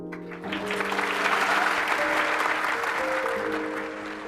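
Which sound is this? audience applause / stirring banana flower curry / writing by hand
audience applause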